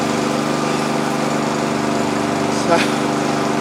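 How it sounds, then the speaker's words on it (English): A lawnmower engine hums steadily and evenly throughout, with a small bump near the end; someone talks over it at times. "We've got the lawnmower now, Aaron."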